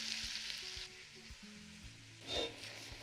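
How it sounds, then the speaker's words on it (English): Chopped onions frying in a pot over a burner on high heat give a steady broadband sizzle throughout, swelling briefly near the end with a quiet low clatter beneath, and no one speaks. "I have the heat kind of cranked under this burner to get those onions started."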